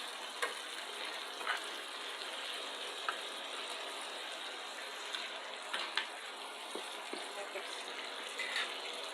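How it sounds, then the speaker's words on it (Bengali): Thinly sliced beef fries kebab-style in a pot, a steady, faint sizzle with bubbling throughout and occasional light clinks of a utensil against the metal. "কাবাবের মতো করে মাংস ভেজে দিচ্ছি"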